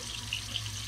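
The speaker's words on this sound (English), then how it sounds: "running it under the water" Tap water runs steadily into a sink, a close, continuous hiss and splash while a squirrel heart is rinsed under the stream.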